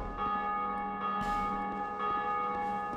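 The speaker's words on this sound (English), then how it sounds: "It rang the bell" A bell rung inside a belfry in Dark Souls II, sounding as a rich sustained metallic toll with a couple of fresh strikes layered over its long ringing decay, with no talk.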